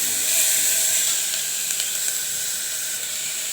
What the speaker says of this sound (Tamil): பாருங்கள் இப்போ பொரியுது